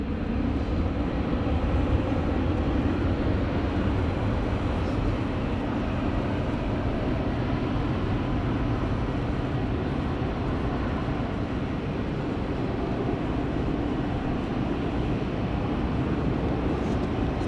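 A British Airways Boeing 787 airliner on the runway at Sydney Airport, heard as a steady, continuous broadband jet engine roar that holds at an even level throughout, with no voices.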